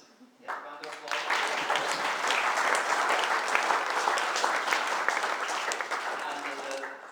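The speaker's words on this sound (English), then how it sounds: "Yeah, round of applause." Wedding guests applaud the mothers during the speeches, building quickly into a sustained, dense round of clapping from the room that tapers slightly toward the end, with a voice underneath.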